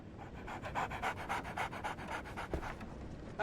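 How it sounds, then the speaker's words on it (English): A dog in the video game Sherlock Holmes The Awakened pants rapidly and rhythmically close up, a steady run of quick breaths lasting a few seconds with no talking. "So, Barnes has a dog now."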